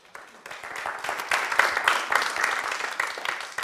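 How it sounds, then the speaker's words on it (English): Audience applause from a crowd at a STEM education event, a dense wash of clapping that swells after the first second and stays steady and fairly close throughout. "Can I have a big round of applause?"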